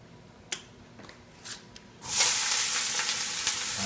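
Sausage and ground beef hit a hot pan for lasagna, a few light clicks and taps giving way to a sudden loud, steady sizzle that holds close and continuous to the end.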